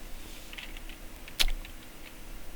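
Light computer keyboard keystrokes, mostly faint and sparse, with one sharper, louder key click standing out partway through in an otherwise quiet room.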